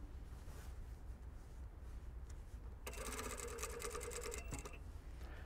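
Sewing machine stitching a shirt collar to the neckline, a rapid steady whirring run of about two seconds starting midway after quiet room noise.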